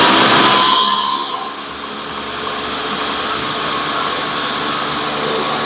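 A food processor blends hummus ingredients, with garlic and pepper among them, roaring loudly for a few seconds at a steady high whir that dips slightly and then holds.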